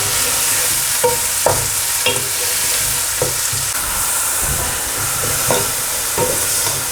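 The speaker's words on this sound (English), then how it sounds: "I'm going to add my onions in and fry them for about 6 to 8 minutes until they're lightly golden brown in colour." Onions fry in a pan with a constant loud sizzle, while a spoon scrapes and stirs them at irregular intervals.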